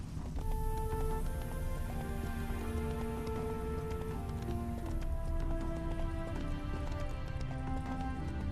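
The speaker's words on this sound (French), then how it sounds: "Au galop, Ablette!" Steady clip-clop hoofbeats of a galloping horse in the video game The Witcher 3: Wild Hunt, under continuous music, loud and even throughout with no talking.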